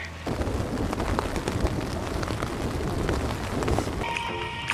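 Steady rain pours down on a campsite near Conundrum Hot Springs in a dense, continuous hiss with low rumbling underneath, close and fairly loud throughout.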